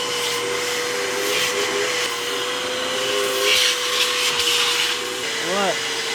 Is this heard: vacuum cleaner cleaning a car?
yes